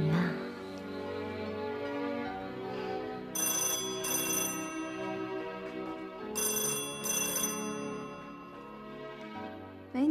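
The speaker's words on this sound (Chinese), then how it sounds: "是孙夫人的电话。" An old-style telephone rings in a drama scene in two double-ring bursts, clear and fairly close, over a steady tonal background.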